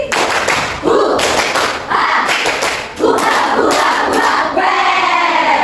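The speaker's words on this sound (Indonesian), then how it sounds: "Tepuk semangat velocity." A primary school class shouts together while performing a rhythmic clapping cheer, with loud, close bursts of clapping in repeated patterned groups and brief pauses between phrases.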